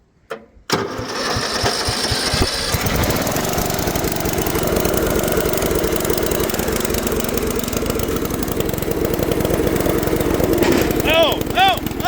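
A homemade mud mower's engine roars loudly and steadily as the machine drives off, a constant rough mechanical drone with excited voices talking over it.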